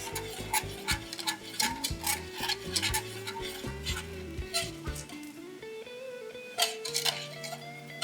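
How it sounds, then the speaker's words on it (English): A whisk scraping and stirring a thickening sauce in a pot, rapid rhythmic metallic clinks and rubbing strokes close up, with tonal music playing underneath. "Make sure you use a whisk to get all the lumps out."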